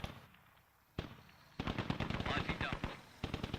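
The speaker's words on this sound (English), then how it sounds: "They're shooting back and forth at each other." Rapid gunfire crackles back and forth in the combat game Squad, with quiet lulls broken by sharp single shots, then a dense rattling burst of automatic fire and a final volley near the end.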